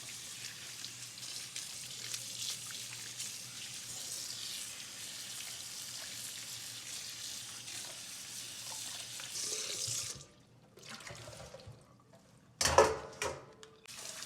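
Cut vegetables being washed in a sink, a continuous soft rush of running water and splashing, fairly quiet, breaking off near the end with a few closer clattering splashes.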